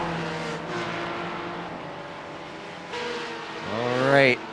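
Simulated race cars, Mazda MX-5s and Porsches, lapping the Nürburgring Nordschleife in iRacing, their engines droning steadily, then one car's engine revs rising sharply near the end, with no talking.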